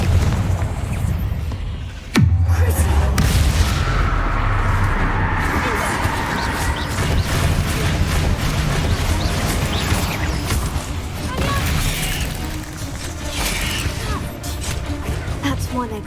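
A Confringo spell explosion in Hogwarts Legacy, one sudden loud boom with a deep low rumble that decays into crackling debris and game ambience, with a voice speaking in the clip.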